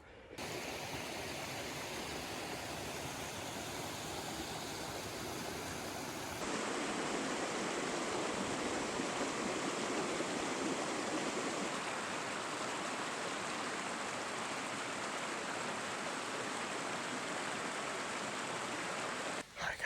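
Steady rushing water of a mountain creek in Vermont in November flows continuously, a broad even wash of sound over rocks, with no voices.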